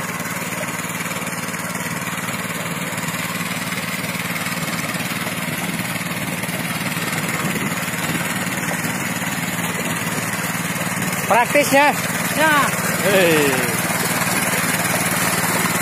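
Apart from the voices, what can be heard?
mini tractor engine running, 900cc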